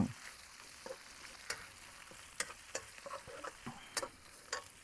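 Curry paste fries in oil outdoors by a reservoir, a faint steady sizzle punctuated by sharp scraping stirs and spatula clicks.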